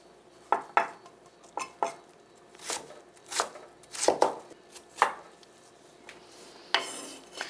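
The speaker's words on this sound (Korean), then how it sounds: "가능한 한 얇고 작게 썰어 주시면 좋아요" A knife chops radish thinly on a cutting board, about a dozen irregular sharp knocks close by, with no talk.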